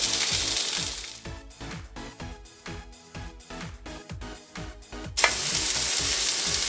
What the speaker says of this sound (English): put a little bit of butter on this toast and let it soak in this garlic butter. And I'm going to toast this bread too